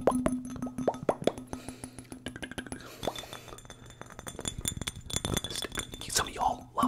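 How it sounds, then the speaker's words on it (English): Fingernails tap quickly on glass in close, crisp ASMR clicks and clinks that come in rapid, irregular bursts. A soft voice whispers under the tapping. "Some of y'all love the glass tapping."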